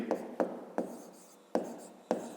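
A pen writing out a maths inequality, several short scratchy strokes and taps spaced irregularly, fairly close and quiet, with no speech over them.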